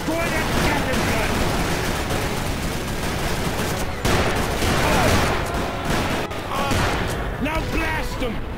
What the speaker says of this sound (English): Destroy that Gatling gun!